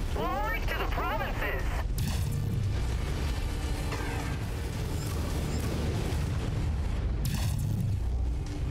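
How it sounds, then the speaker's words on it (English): Heavy rifle fire from a Shadowhawk mech in Mechwarrior 5 Mercenaries, with deep booming cannon blasts and mechanical clatter in a dense, loud battle, a strong boom near the start and another near the end, under a player's talk. "Somebody shot with something big. Heavy rifles, that Shadowhawk just shot"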